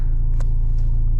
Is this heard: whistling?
no